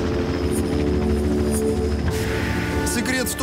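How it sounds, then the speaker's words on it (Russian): A hovering helicopter drones in a steady, loud mechanical hum with a rhythmic rotor throb throughout, during a Su-35 radar demonstration, with a short burst of other noise near the end. "летящий вертолет, но и висящий вертолет"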